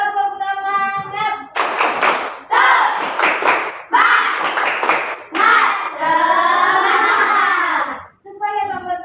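A class of children does rhythmic 'tepuk semangat' spirit clapping in a classroom, loud bursts of patterned hand claps alternating with a teacher's voice and chanted speech.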